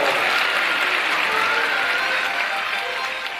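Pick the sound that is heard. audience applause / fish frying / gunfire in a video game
audience applause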